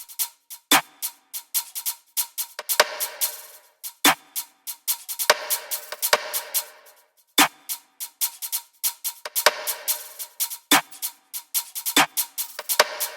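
A drill drum pattern plays on its own: crisp snare cracks and syncopated percussion hits repeat in a steady, bouncy rhythm with occasional low kicks.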